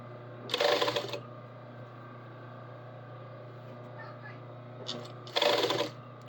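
Two short bursts of a sewing machine top stitching a sleeve seam, one near the start and one near the end, with a quiet steady hum and faint handling noise between them.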